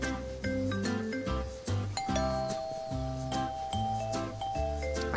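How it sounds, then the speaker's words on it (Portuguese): A house doorbell rings in a clear ding-dong chime, repeating several times in close succession and fairly loud, with no talking over it. "Eu não sei se ele escutou a campainha."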